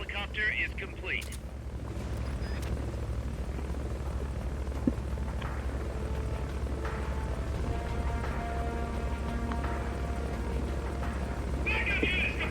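Steady thudding rotor drone of a helicopter in Metal Gear Solid: Peace Walker, constant and fairly close for over twelve seconds, with occasional game effects and voices over it.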